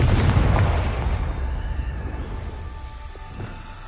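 Blasting curse Confringo from Hogwarts Legacy going off: a loud, booming explosion at the start that rumbles and decays over several seconds, with a few fainter pops trailing behind.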